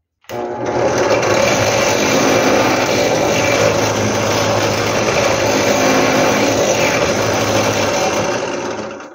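A drill boring holes through a round cachepô held against a template runs continuously at a steady loud whine for about nine seconds, with no talking.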